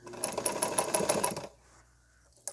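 A sewing machine runs in a quick rhythmic chatter as it stitches a skirt seam through many layers, stopping after about a second and a half, with a small click near the end.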